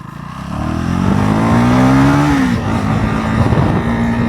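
A 350cc sports motorcycle ridden in street mode, engine note climbing steadily through the revs, then a gear change and renewed pull, loud and close.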